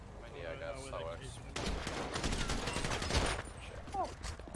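Gunfire in GTA RP during a raid, with a dense rapid volley of close gunshots lasting about a second and a half, set against background game ambience and brief tonal sounds.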